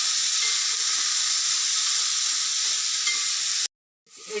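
Cooked chicken sizzles in a hot pan while being stirred, giving a steady bright hiss of frying that cuts off abruptly near the end before faintly returning.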